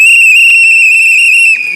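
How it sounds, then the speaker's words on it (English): A loud, shrill whistle is blown in a TV studio during live election results coverage, one sustained steady tone lasting about a second and a half before cutting off into faint background noise. "these whistles are ringing loud"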